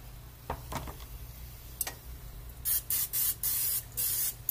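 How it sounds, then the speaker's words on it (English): Canola oil cooking spray hisses from a can in a run of four or five short, loud bursts, close by in a quiet kitchen after a couple of faint taps. "spray it with canola oil."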